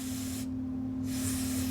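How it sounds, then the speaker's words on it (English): Flux cleaner hisses steadily from an aerosol can in two close bursts with a short pause between, over a constant low electrical hum. "Spray it on, let it hang out for a minute"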